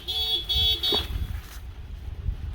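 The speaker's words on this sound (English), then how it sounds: "Who's honking?" A car horn sounds from a distance in an outdoor South Florida garden, with a few short repeated honks over steady background noise, after which it trails off.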